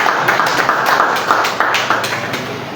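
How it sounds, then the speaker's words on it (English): Audience applause at a cooperative institutions' annual general meeting and lecture in Ogun State, a steady run of many hands clapping close by, loud and continuous with scattered sharper claps and no talking. "Please let's have another round of applause for."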